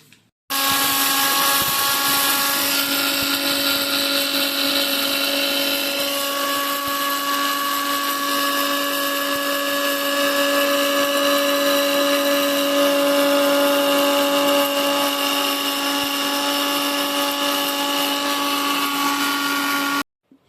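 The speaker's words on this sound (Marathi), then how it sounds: "मुगाची डाळ आहे ती पिसून एकदम बारीक फाईन पेस्ट केली तरी झाली" Mixer grinder grinding soaked moong dal into a fine paste, a loud steady high whine running continuously for about twenty seconds before abruptly stopping, with a brief click at the start.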